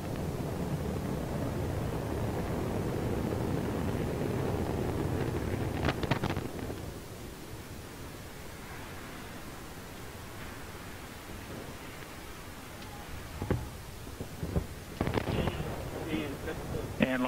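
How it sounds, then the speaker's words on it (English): Antares 543 rocket carrying Cygnus lifts off, a deep, steady broadband roar with heavy low rumble filling the first six seconds, then easing into a softer wind-buffeted rumble with a few scattered knocks near the end. "And we have liftoff of Antares 543 mission that brings Cygnus on its third CRS mission to the ISS."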